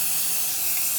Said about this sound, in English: once we spray this, we just let them dry